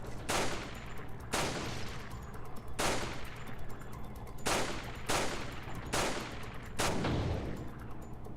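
Gunfire in Resident Evil 4, a series of loud close shots spaced about a second apart, each burst sharp with a ringing tail, no voices over it.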